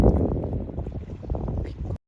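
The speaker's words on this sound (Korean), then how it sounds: "세 번째 클립은 바닷바람 소리가 엄청나네요" Strong sea wind buffets the microphone in a loud, steady low roar with gusty rumbling, cutting off abruptly at the end.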